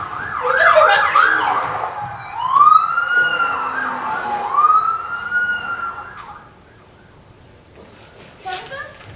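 Police car with flashing lights sounds its siren in a city street, a loud rising-and-falling wail repeated several times, mixed with voices and shouting.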